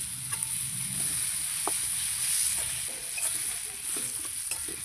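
Pumpkin pieces fry in hot oil for a prawn and vegetable curry, a steady loud sizzle broken by a few stirring scrapes and clinks of a spatula against the pan, with no voices.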